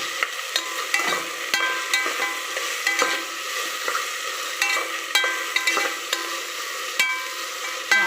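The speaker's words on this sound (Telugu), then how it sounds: "టూ మినిట్స్ వేగనిచ్చాక అల్లం వెల్లుల్లి పేస్ట్ వేసుకోవాలి." Ginger garlic paste frying in oil in a pan, with a steady close sizzle broken by regular scraping clicks from stirring throughout, and no voices.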